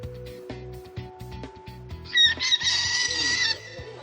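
An African lovebird imitates a rooster's crow, high and strained, rising over a steady series of low rhythmic thumps, lasting about a second and a half near the end.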